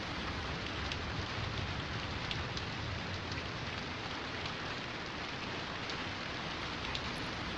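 Steady rain pours down in a dense, continuous hiss, with scattered drops ticking on a surface, evenly loud for the whole stretch and without voices.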